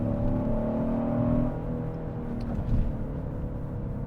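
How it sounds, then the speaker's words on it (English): Synthetic engine sound piped into the cabin of a 2026 Genesis GV70 Sport Prestige with the 3.5-litre twin-turbo V6, a steady low droning hum with a faint rising whir under acceleration, no voices. "Fake engine noise."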